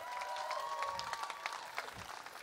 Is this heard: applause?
yes